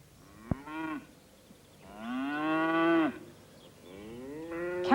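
Several cows moo in long, harmonic bellows, three distinct calls spaced across the clip with quiet gaps between, fairly close and clear with no talk.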